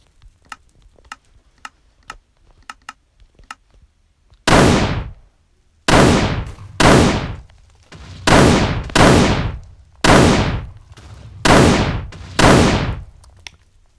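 Guts' arm cannon fires in a Berserk addon for Minecraft PE: soft clicking ticks lead into about seven loud, booming blasts with decaying tails, spaced a second or so apart.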